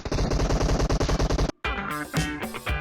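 An Uzi fires a rapid, evenly spaced burst in the mobile game PUBG Mobile. The loud gunfire ends abruptly and gives way to quieter game sounds.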